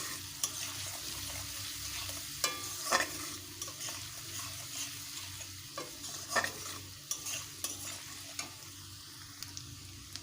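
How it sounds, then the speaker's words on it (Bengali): Chopped medium onion fries in a pan with a continuous close sizzle, broken by intermittent scrapes and knocks of a spatula stirring it. "পেঁয়াজটাকে ভেজে নেব মাঝারি সাইজের একটা পেঁয়াজ দিয়েছি"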